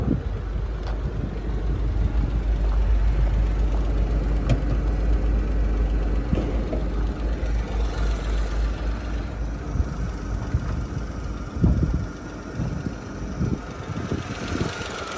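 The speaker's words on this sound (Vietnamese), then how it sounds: "máy thì đang hiện tại đang nổ đây" A 2011 Chevrolet Spark with a 0.8-litre engine and manual gearbox idles steadily, the low engine hum heard fairly close in an open engine bay, with some wind noise and a few faint knocks toward the end.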